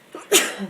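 A single sharp sneeze bursts out during a school board meeting, loud and close, with a faint breath before it and a brief murmur of room noise trailing after.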